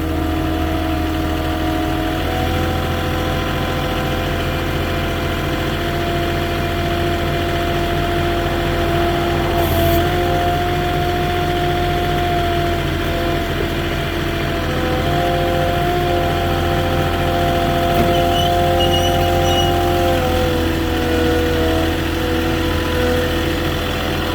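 A Moffett truck-mounted forklift engine idles steadily and close by, a constant low mechanical rumble with faint tonal hums, holding an even level throughout with no talk.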